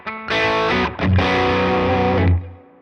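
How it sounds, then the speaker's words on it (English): Distorted electric guitar with Mythos pickups through the lead channel of an Imperial amp, two loud sustained chords with a short break between them, ringing out and fading at the end. "So I'm going to switch it over to the lead channel of this Imperial."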